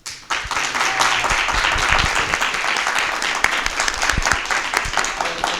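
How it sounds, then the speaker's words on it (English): A conference audience applauds the Women in Tech panelists, a steady, dense wash of many hands clapping that swells quickly and holds loud and unbroken with no voices over it. "if we could please give them a round of applause"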